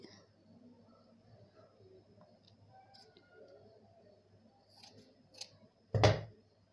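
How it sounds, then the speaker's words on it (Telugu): Scissors snipping through blouse sleeve fabric at the end, a brief close crunchy cut after a long quiet stretch of faint room noise and light handling sounds. "ఈ 2 హ్యాండ్స్ కాబట్టి మధ్య కట్ చేసుకోవాలి."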